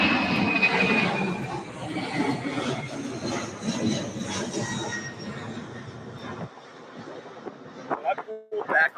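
UPS MD-11 cargo jet 284 UP, a trijet, takes off at Louisville airport, its loud rumbling engine roar dominating before cutting off, followed by clicks and handling noises nearby with voices talking over the roar.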